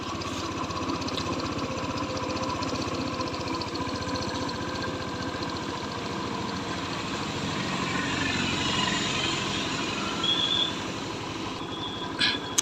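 A TVS Jupiter scooter idles steadily after its carburetor was replaced and the RPM set lower, a close, even engine drone with a faint rattle throughout and a brief clack near the end.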